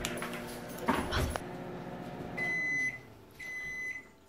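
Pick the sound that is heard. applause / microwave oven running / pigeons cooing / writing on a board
microwave oven running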